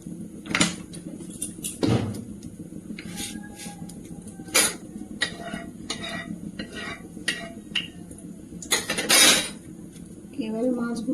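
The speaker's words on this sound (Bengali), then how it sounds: "এটা কিন্তু নাড়তেই হবে।" Food being stirred in a cooking pot on a home stove, with intermittent utensil scrapes and sharp metallic clinks against the pot rim, some close and loud, over a low kitchen background.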